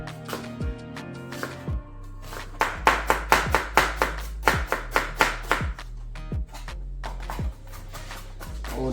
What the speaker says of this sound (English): Just gonna very finely mince up some onions.